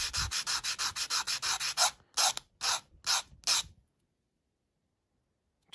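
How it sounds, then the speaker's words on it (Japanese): Plastic being smoothed with a Daiso cube-shaped 400-grit sanding block: a run of quick, even rasping strokes, then a few slower separate strokes, loud and close, followed by silence. "粗く削ったところを、ちょっと滑らかに平らにしていくと"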